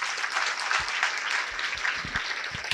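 Applause from an audience at a youth meditation gathering, a steady dense wash of clapping sustained for a few seconds at moderate distance, with no talk over it.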